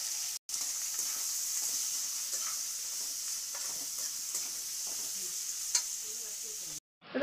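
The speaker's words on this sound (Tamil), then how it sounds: "இப்போ வெங்காயம் நல்லா வதங்கிச்சு." Sliced big onions sauté in a pan with dried chillies and curry leaves, giving a soft, continuous sizzle with occasional stirring scrapes, heard close and fairly quiet with no talking.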